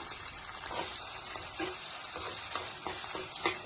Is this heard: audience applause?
no